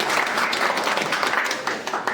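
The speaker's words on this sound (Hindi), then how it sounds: "एक बार जोरदार तालियां।" Loud, dense applause from a crowd at a party introduction meeting, steady clapping filling the room throughout with no pauses.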